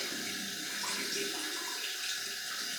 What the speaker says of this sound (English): I'm just going to wet it under the sink, under the tap.